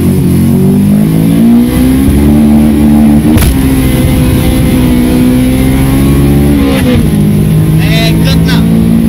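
A car engine with a knocking fault, smoking and with broken pistons, revs loudly and close up, its pitch rising and falling in repeated surges while voices talk over it.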